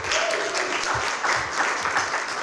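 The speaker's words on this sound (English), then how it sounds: "Can we all give it a round of applause to our panelists?" Audience applause for panelists at a divinity school symposium, a steady dense clapping from a seated crowd lasting a couple of seconds with a faint voice underneath.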